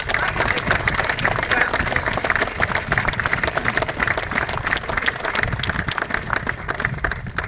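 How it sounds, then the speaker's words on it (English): An audience applauds steadily at a naming ceremony for a Class 93 locomotive, 93001, at the Shildon Locomotion Museum, dense clapping holding loud and even throughout with no break. "Can you give them a round of applause?"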